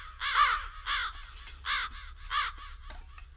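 Crows cawing around a house, four loud harsh caws in a steady rhythm, close by and alone with no talk.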